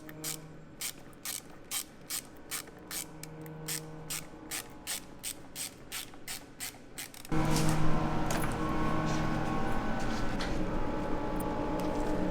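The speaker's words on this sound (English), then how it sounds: "now we're just going to retighten the hose clamps." A hand ratchet tightens hose clamps on the fuel filter of a BMW E46, giving a steady run of sharp, evenly spaced clicks up close, followed by a louder, denser stretch of rapid ratcheting.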